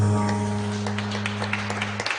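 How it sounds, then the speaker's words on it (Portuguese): Congregation clapping during a church worship session, scattered hand claps building over a sustained droning organ or keyboard chord, moderately close and loud. "Pode aplaudir o Senhor mais uma vez."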